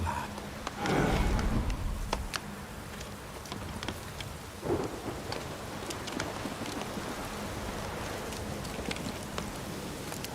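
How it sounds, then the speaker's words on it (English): Rain falls steadily in a thunderstorm in the video game The Witcher III, with two heavy thunder rumbles breaking through the constant hiss, no voices. "The storm, damn it."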